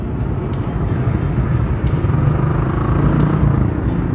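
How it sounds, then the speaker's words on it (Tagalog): Heavy, congested traffic crawls along the E-service road, with car and motorcycle engines forming a thick, steady rumble close by, overlaid by a rapid, regular ticking, with no talking. "Grabe, malala na ang traffic dito sa may e-service road."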